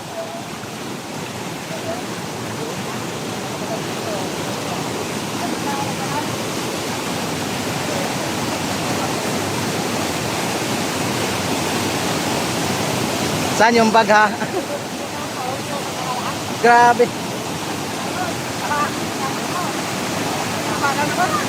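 Strong floodwater rushes in a loud, continuous roar during a typhoon in Mindoro, filling the whole scene close at hand, while a person briefly speaks over the torrent near the end.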